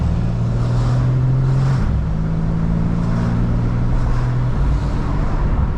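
A 2025 BMW M4 Competition's engine drones loud and close with a steady low rumble, the pitch dropping at each gear change, under heavy road and wind noise.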